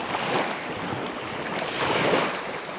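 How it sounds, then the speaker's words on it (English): Waves washing onto the sandy lake beach at Jackson Lake State Park, a soft continuous surf wash that rises and falls gently, mixed with wind rumble on the microphone and no voices. "So there is a beach at Jackson Lake State Park."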